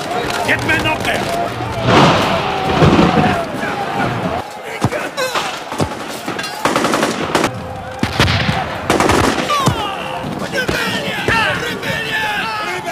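Prison guards fire guns at rioting inmates, sharp bursts and single shots cracking out amid banging and shouting voices in a loud, chaotic scene.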